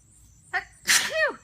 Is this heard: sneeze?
yes